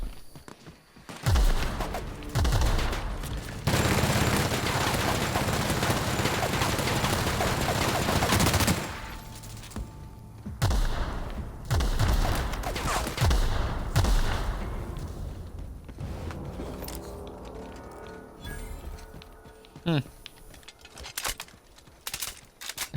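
Gunfire in The Outer Worlds, with loud bursts of automatic and single shots in several clusters separated by short quieter gaps and a few footsteps, with no talking.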